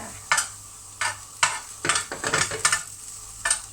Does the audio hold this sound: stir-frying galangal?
yes